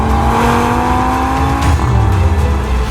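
A 2018 Audi TT RS with its 2.5-liter five-cylinder engine roars loud and close, its rising revs breaking into a sharp shift midway and then climbing again, with no voices over it.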